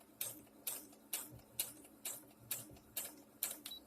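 A home sewing machine stitching slowly back and forth while mending ripped ribbing, giving a steady series of about nine evenly spaced, close mechanical clacks with quiet gaps between them.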